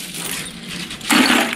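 Coins dropped and handled, a metallic jingle and clatter that swells into a louder burst of clinking near the end, close by with no speech.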